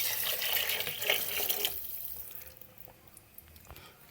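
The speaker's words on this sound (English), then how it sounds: "Now I'm adding some water." Water poured from a tap into a cooking pot while making Jamaican chicken and rice, a steady rush of running water close by that cuts off after about two seconds, leaving faint drips and kitchen clatter.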